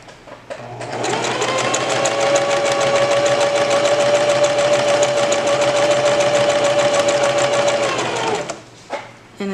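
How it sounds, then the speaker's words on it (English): A sewing machine zigzag-stitches stretch fabric for a headband, running loud and steady for about seven seconds with a fast, even mechanical whir before slowing to a stop, followed by a few brief handling knocks. "as you sew, you'll go ahead and adjust your fabric"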